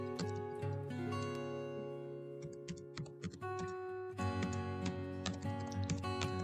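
Typing on a computer keyboard, heard as faint, irregular clicks and taps at a quiet desk over a steady background hum.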